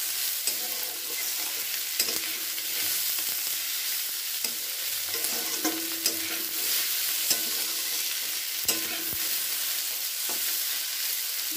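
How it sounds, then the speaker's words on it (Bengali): Fried bitter gourd and eggplant being stirred in a pan, a continuous soft sizzle broken by repeated spatula scrapes and clinks at an irregular pace, close and alone with no talking. "এবার একটু নাড়াচাড়া করে এটাকে আমি নামিয়ে দেবো।"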